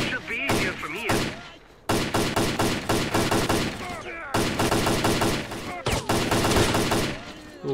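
Rapid bursts of automatic gunfire during a bandit attack in S.T.A.L.K.E.R. Clear Sky, loud and repeated in rhythmic volleys with short pauses, with voices calling out underneath.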